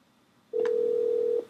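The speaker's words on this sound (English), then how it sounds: "let me try to get him back on the phone." A telephone dial tone heard during an attempt to call someone back, a single steady electronic tone lasting just under a second, clear and close, with a brief click at its start.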